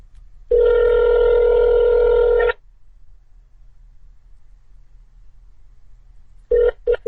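A cell phone rings with a loud two-second electronic tone burst, followed by a long silence and then a few short choppy tones near the end, with no talking.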